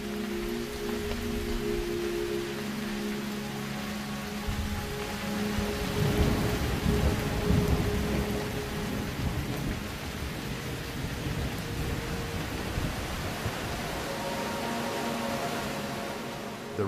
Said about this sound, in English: This is the summer rainy season in Ethiopia.